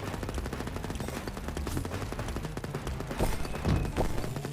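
Rapid automatic gunfire from a lightning-charged tommy gun in the roguelite video game Erosion, a dense, loud rattle of shots running continuously with heavier bursts near the end.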